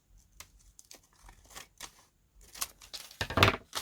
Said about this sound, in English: If I position it, maybe we could cut this down